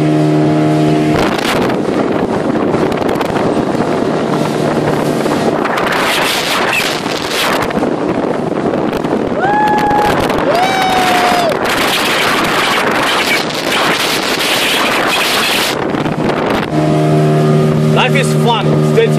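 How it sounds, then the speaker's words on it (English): A speedboat runs over water in Kerala, its engine and strong wind buffeting loud and steady throughout the ride, with people talking over the roar. "We are still in the speedboat, having the time of our life."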